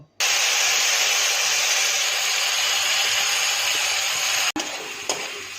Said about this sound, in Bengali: মিক্সিতে একটু যেহেতু জল দিয়েছি তাই জন্য আমি আবার কড়াইতে একটু নেড়ে চেড়ে নেব